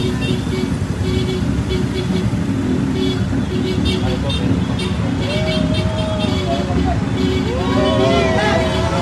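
Car horns honk repeatedly during a political campaign caravan, amid loud, steady traffic noise and crowd chatter, several short toots sounding near the end.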